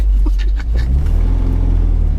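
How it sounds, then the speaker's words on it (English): A classic Mini's small engine revs hard up close, a loud, deep rumbling drone that holds steady throughout with a rough, throbbing edge. "Revving the nuts off a tiny car"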